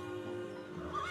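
A horse whinnies in a video game, a single short, fairly faint neigh over a low, steady background.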